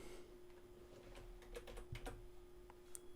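Keys tapped on a computer keyboard, a quiet run of light clicks spread across a few seconds, close to the microphone and faint, with a steady hum behind and no voices.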